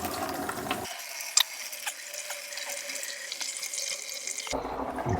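Old coolant draining from a radiator hose on a Renault Twingo with the D7F engine, a steady trickling splash of liquid that runs continuously with small clinks, close by and fairly quiet.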